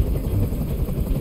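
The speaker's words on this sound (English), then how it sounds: "Tell that helicopter to get out of here." A helicopter hovering nearby in Detroit: Become Human, heard as a continuous low, throbbing rotor chop that stays loud and steady throughout with no voices.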